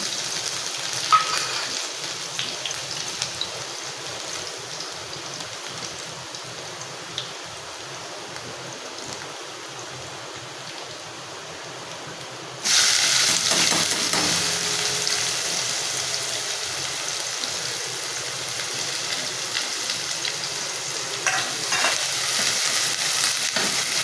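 Garlic paste hits hot oil seasoned with a pinch of asafoetida on a lowered flame while making zunka, a quiet hiss that bursts into a loud, sustained close-up sizzle about halfway through.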